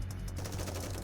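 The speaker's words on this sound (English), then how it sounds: "We hear the sounds of gunfire." Rapid gunfire in the video game Goddess of Victory: NIKKE, fired as a quick chattering burst of shots over a dense, noisy game soundscape.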